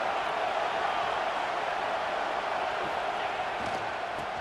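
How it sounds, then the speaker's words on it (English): A fired-up stadium crowd at a football game against Nebraska fills the air with a constant, dense roar that holds steady throughout with no clear peaks. "It's early, but this crowd is fired up. Listen to this noise here."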